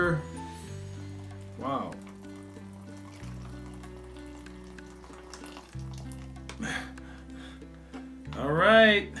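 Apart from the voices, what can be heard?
pouring hot boiling water into Mountain House raspberry crumble pouch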